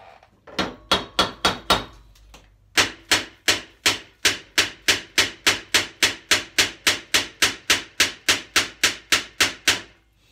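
Steady, evenly spaced hammer blows strike metal while working on an Ariens zero-turn mower, about twenty-five sharp, close, loud impacts in a regular rhythm after a few quicker opening taps.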